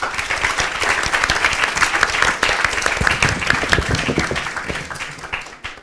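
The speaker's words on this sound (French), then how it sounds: "Merci beaucoup, on les applaudit." Dense audience applause at a launch event for a research funding program, steady and fairly loud for about five seconds, then thinning out toward the end.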